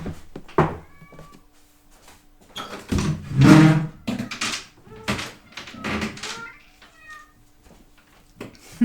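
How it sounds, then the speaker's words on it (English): A house cat meows repeatedly indoors, several distinct calls spaced a second or two apart, fairly close and clear, with light tapping and knocking noises scattered between them. "I can't ignore the fact that my cat is calling"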